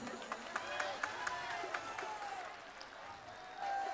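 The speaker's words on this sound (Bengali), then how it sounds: "এইটুকু হাততালি দেবেন না প্লিজ?" Faint, distant applause and scattered clapping from a crowd at a live concert, thin rhythmic claps with light crowd noise and talk.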